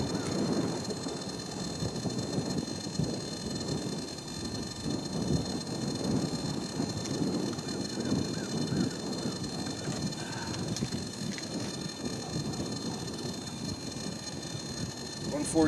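A Giant Stinger kit from Carolina Custom Kits runs its engine on a test run while the high-end mixture is tuned. It holds a steady, high, whining drone over broad low rumble and wind buffeting for the whole stretch, without a break.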